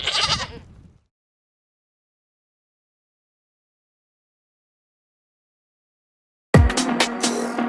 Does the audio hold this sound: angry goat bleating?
yes